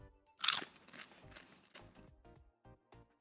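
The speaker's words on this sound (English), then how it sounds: "Hold on, I'm chewing." Someone chews crunchy food close to the microphone during a casual livestream, with one loud crisp bite first and then a run of softer, uneven crunches.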